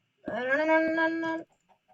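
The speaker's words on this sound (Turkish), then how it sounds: "Tavuk gıdakları falan yazıyor." One drawn-out, tonal clucking call from a video game chicken, close and clear, lasting just over a second, followed by faint scattered clicks.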